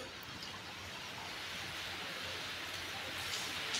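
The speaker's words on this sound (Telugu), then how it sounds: "ఓ మై గాడ్, వర్షం ఇప్పుడే స్టార్ట్ అయింది. సడన్గా వర్షం వస్తుంది." Rain begins falling outdoors, a steady, even hiss of drops that holds at a moderate level for a few seconds with no voices.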